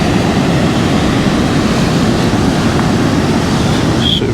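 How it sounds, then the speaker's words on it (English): Steady, broad wash of ocean surf at a restored beach along the Florida coast, a continuous near roar with wind noise on the microphone and no distinct wave breaks. "But the waves are nice today."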